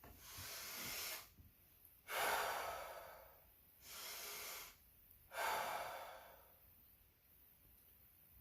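Slow, deliberate breaths taken just before a podcast recording, three long airy inhale-exhale cycles close to the mic, quiet and unhurried with a faint hiss in the gaps.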